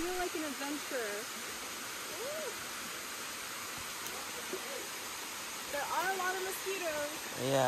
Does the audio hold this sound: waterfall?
yes